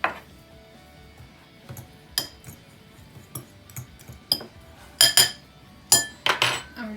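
Dark brown sugar and cinnamon being mixed in a bowl, a spoon clinking and tapping against the bowl in sharp, irregular strikes, several close together, over a quiet background.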